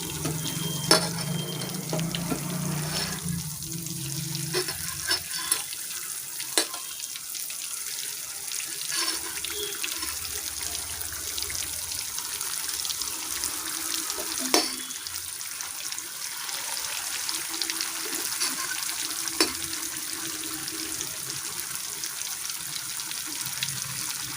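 Snakehead fish (korameenu) pieces fry in hot oil, giving a steady soft sizzling hiss that runs throughout, with occasional small pops and clicks and faint speech in the background.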